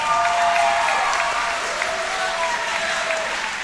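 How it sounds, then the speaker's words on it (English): Crowd applauding for both fighters after an armbar submission in an MMA cage bout, a steady, dense wash of clapping from a large audience, with a faint announcer's voice carrying over it. "a big round of applause,"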